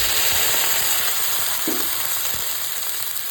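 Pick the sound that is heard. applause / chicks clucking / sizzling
sizzling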